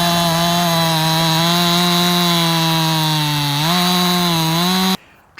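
A chainsaw working in the woods of Northwest Pennsylvania gives a loud, steady, close buzzing drone whose pitch shifts slightly upward near the end before cutting off abruptly.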